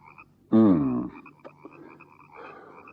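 Frogs croaking in a marsh: a loud, dense burst of overlapping croaks rises abruptly, then drops back to a softer chorus of scattered calls continuing in the background.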